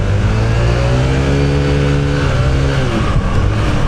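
A Honda ADV 160 scooter engine with an upgraded CVT setup revving loudly up close in sport mode, its pitch rising and holding in a steady, throaty drone.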